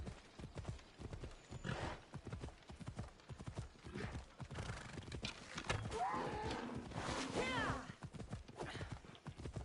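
Rhythmic hooves of a horse in Assassin's Creed Odyssey clip-clop steadily at a brisk pace, loud and close, with a brief whinny partway through and some game ambient noise.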